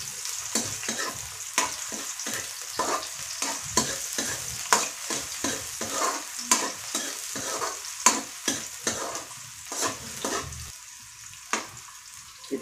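Onion and garlic frying in a pan for chicken adobo, continuous sizzle punctuated by rapid, rhythmic scrapes and clacks of a spatula stirring, close and fairly loud, with no talking.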